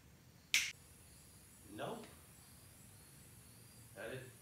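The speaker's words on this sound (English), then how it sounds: "Wish I could do that by snapping my fingers." A single sharp finger snap rings out once near the start in a quiet outdoor ranch setting with calves, followed by a couple of faint soft rustles and silence.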